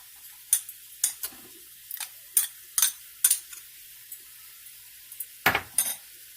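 Garlic and ginger paste in a pot, with a soft sizzle under sharp metallic clinks and taps of a spoon scraping and stirring against the pot at irregular intervals.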